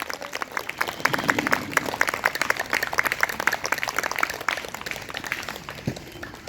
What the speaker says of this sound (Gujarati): જોરદાર તાળી પાડી